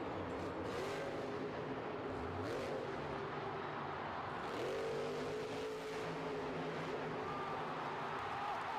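A pickup truck engine revs and surges through a freestyle stunt jump, the motor droning steadily with swelling throttle bursts and a falling pitch as it eases off, loud and continuous with no talk.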